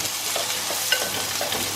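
Onion frying in a pan with cumin seeds, a steady broadband sizzle with soft stirring scrapes and a couple of sharp metallic clinks, no talking.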